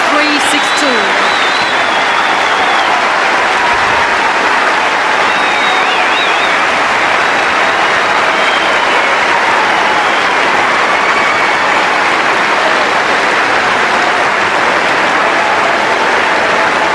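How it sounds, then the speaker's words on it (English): Tennis crowd at the 1993 Australian Open stands and applauds champion Monica Seles after the Seles–Graf final, a loud, sustained wall of clapping and cheering that fills the whole stretch, with a commentator's voice faintly over it. "People on their feet as one, applauding the champion yet again, Monica Seles"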